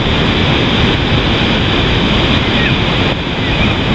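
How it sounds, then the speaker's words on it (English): Wind and surf roar on a sunny, crowded Cannon Beach, Oregon. The broad, steady rush is loud and dense, with wind buffeting the microphone the whole time. "Seems like it's always windy here"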